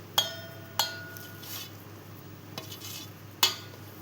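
Grated potato is scraped into a kitchen bowl. Four sharp, separate metallic clinks of a utensil knocking against the bowl ring out at uneven intervals, with quiet shuffling in between.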